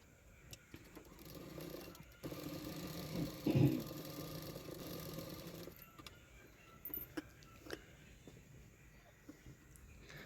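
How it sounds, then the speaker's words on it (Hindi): A sewing machine stitches fabric for a boat neck prince cut blouse, a soft mechanical whir running for a few seconds between quieter handling sounds. "अभी उसको पीछे की तरफ फोल्ड करके और एक सिलाई कर दूँगी"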